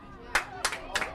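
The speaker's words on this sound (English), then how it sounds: "Runner at second clapping his hands at Cole." Three sharp hand claps from a baseball runner standing at second base, spaced about a third of a second apart, crisp and fairly close over faint crowd murmur.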